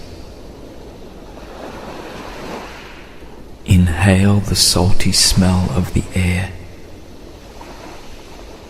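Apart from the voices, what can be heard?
ocean waves rolling over sand on a beach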